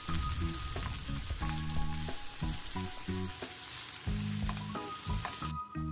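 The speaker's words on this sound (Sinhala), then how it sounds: "බැද ගන්නවා" Dried chillies with a spoonful of salt fry in a hot pan, giving a steady close sizzle broken by repeated stirring and scraping, with no voices.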